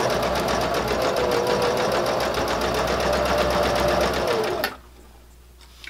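A sewing machine stitches a fabric bag handle cover in a fast, steady mechanical buzz, close and even, before stopping abruptly near the end into near silence.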